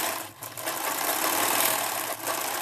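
A sewing machine runs steadily while stitching the waistband band of a two-panel petticoat, a continuous fast mechanical whirring with a brief dip near the start and another near the end.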